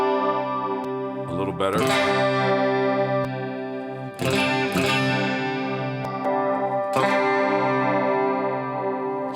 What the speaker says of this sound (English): there's kind of a cleaner distortion, and then as you go through the cabinets, you can even hear how the cabinets will respond